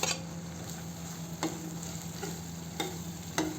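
Tomatoes are stirred into onion, garlic, ginger and coriander powder frying in oil for an egg curry. A soft, steady sizzle runs throughout, with a few brief scraping strokes at regular intervals.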